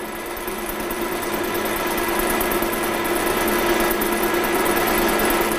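Metal lathe taking a light facing cut of about 0.3 mm, producing a steady, fairly loud mechanical whir and hum that holds constant throughout with no talk.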